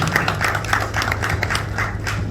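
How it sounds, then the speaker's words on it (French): An audience in a hall at an afternoon cultural event applauds steadily, a dense, even patter of many hands clapping throughout. "j'aimerais qu'on applaudisse la salle qui est ici cet après-midi"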